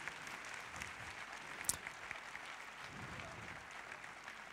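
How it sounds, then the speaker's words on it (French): Audience applause at a show jumping awards ceremony, steady moderate clapping from a crowd somewhat distant, with a single sharp louder clap standing out briefly. "les applaudissements, vous pouvez les faire tout aussi chaleureux"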